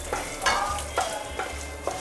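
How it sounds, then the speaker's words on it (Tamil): A lump of asafoetida fries in hot oil in a pan while being stirred for a traditional Tamil kara kulambu. A soft sizzle runs beneath four quick scraping stirs, with no talking. "எண்ணெய் போட்டு இதோட நான் கட்டி பெருங்காயம் போடுறேன்."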